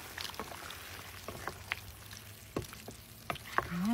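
Pork humba with black beans and pork and beans gets stirred in a sizzling pan, a soft steady fry broken by scattered scrapes and clinks of a spoon against the pan, heard up close.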